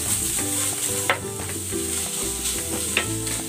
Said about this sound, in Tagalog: Gigisa ko muna itong maigi. Gusto ko medyo tusta yung giniling.